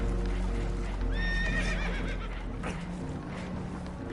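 Spooked horses whinny and neigh in Red Dead Redemption II, a sharp high whinny rising over steady clip-clop and rumbling background noise aboard a damaged boat taking on water.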